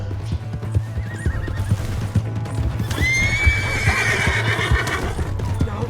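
A horse in Red Dead Redemption 2 neighs and whinnies loudly and close, with a long shrill call rising midway over hoof clip-clops and a low game-ambience hum.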